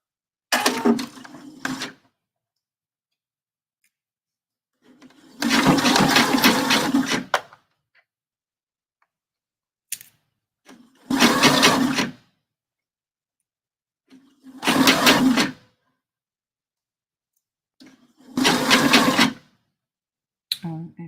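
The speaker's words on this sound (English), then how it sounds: "As you can see, I'm stitching all the way down the tail, okay, till it runs out." A sewing machine stitches down the tail of a bra gore, running in five separate bursts of a second or two each with quiet gaps between, fairly close and with no talk over it.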